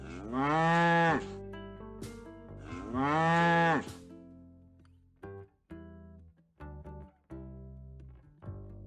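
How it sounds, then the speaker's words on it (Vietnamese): Two long, loud cow moos from cattle, each drawn-out low call with rich harmonics, followed by a series of short, sharp sounds; no talking. "Con bò. Con bò. Cows, cows."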